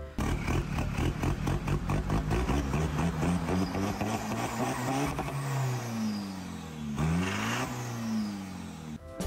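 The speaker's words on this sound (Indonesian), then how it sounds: "mobil tersebut menggunakan mesin diesel yang bisa menghasilkan suara kayak gini" A diesel car engine revs repeatedly in rising and falling bursts, loud and close, then settles into a steadier engine drone with smoother pitch sweeps as it accelerates and eases off.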